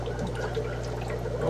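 Water poured into a brine shrimp hatching tank, a steady close splashing stream over a constant low hum, with no one speaking.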